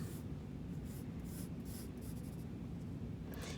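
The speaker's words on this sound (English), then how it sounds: "I'm drawing an amphora" Pencil scratching on paper while sketching an amphora, a close, continuous dry rasp with soft strokes and no voices.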